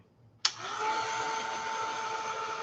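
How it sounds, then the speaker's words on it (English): A Ranger heat tool switches on with a click and blows hot air in a steady, faint whirring hiss that holds without change, with no talking. "I'm going to use the Ranger heat tool, not my heat gun where I would use to emboss."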